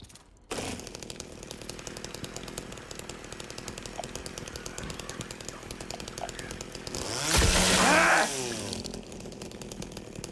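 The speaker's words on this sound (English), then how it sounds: "I like how James is just like, I hear a bug. Bust out the chainsaw" In Silent Hill 2 Remake, a chainsaw idles with a steady buzzing rattle, then revs hard into a loud roaring whine for about a second before dropping back to its idle chug. The sound is close and there is no speech.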